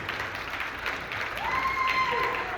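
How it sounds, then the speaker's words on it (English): An audience at a ballroom dance competition applauds the dancers with dense, steady clapping, and faint whoops or cheers rise briefly above it midway. "a nice big round of applause for these great dancers"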